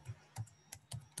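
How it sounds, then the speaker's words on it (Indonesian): Light typing on a computer keyboard, about five quick, soft key clicks spaced unevenly across a short, quiet moment, with no voices. "langkahnya kita harus ngetik"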